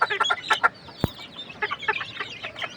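Desi chickens on a farm cluck in quick, close bursts, with several hens calling over one another and a single sharp knock partway through.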